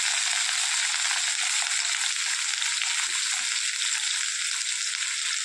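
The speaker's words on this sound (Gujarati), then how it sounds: "આપણે ડુંગળી તેલમાં શેકવાનું છે." Chopped onions fry in a few spoonfuls of oil for a small-onion and chana dal curry, giving a steady, close, unbroken sizzle with no talking.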